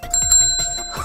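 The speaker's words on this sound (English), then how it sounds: "A bell! Listen!" A small bell, like a bicycle bell, rings clearly in several bright metallic strikes at a science center, each with a short ringing tail, loud and close with no talking.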